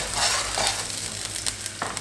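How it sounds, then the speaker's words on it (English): A medium onion, thinly sliced, sautés in oil in a pan for a full English breakfast, giving a steady close sizzle with a few stirring scrapes and clicks and no voices. "So I just got one medium-sized onion thinly sliced. And we just want to get this nice and sautéed."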